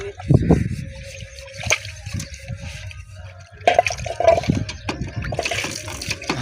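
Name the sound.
water flowing out of a tap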